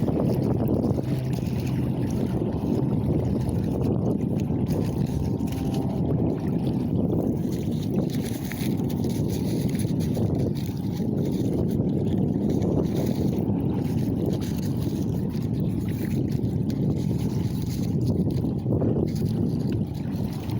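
An aluminum bass boat fitted with a jet ski engine and jet pump runs on the water with a loud, steady motor roar, water rushing and wind buffeting close to the microphone throughout.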